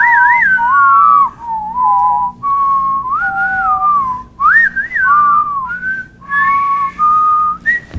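A person whistles a sliding, wavering melody in phrases with short pauses, clear and close, sometimes in two tones at once.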